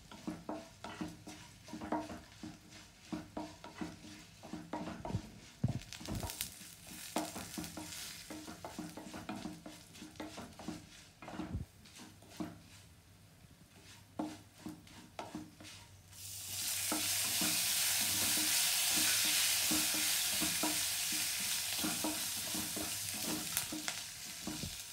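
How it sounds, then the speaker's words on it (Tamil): Urad dal frying in hot oil in a pan, stirred with a spoon in repeated scraping strokes over a steady sizzle, which swells into a loud, dense hiss near the end. "இப்போ செவந்திருச்சி உளுத்தம் பருப்பு"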